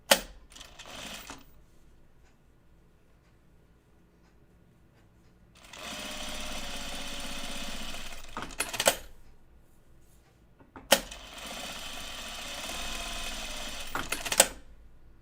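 A sewing machine topstitches denim jeans with thick thread in two long, steady whirring runs separated by quiet pauses, with clicks and clunks as the fabric is adjusted between bursts.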